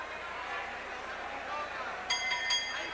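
Ring bell ending round four of a 1980 professional boxing bout, two quick metallic dings near the end, sounding under a television commentator's steady talk and arena crowd noise.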